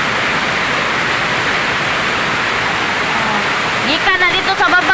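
Heavy rain floodwater pouring into a house, a steady loud rushing wash of water throughout, with a voice briefly talking over it near the end.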